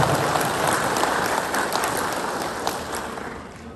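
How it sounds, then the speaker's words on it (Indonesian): Dense applause for a pastor at a church gathering rolls steadily through the hall, a crowd clapping continuously at even strength before easing slightly toward the end. "saya minta ada tepuk tangan untuk Pak Pendeta terus"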